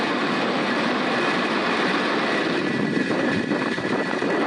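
A SpaceX Falcon 9 rocket lifts off carrying a Space Development Agency Tranche 0 payload, filling the air with a loud, continuous broadband roar that rumbles steadily throughout without speech.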